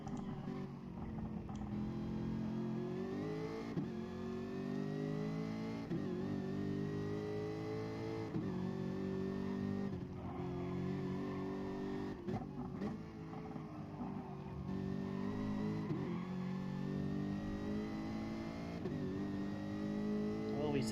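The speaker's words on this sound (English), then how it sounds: "Listen to this supercharged 5-litre Jag." A supercharged 5-litre Jaguar race car in a sim racing game at Autodrome Lago Maggiore revs hard through the gears, its engine note repeatedly rising and dropping at each shift, while a commentator talks over it.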